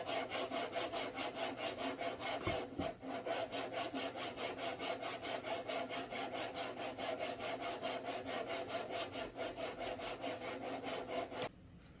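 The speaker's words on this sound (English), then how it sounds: "So I just finished lapping my rings." Rifle scope rings for a new .17 HMR rifle being lapped, giving a steady, close, rhythmic back-and-forth rasping scrape that runs almost without pause before stopping near the end; no talking.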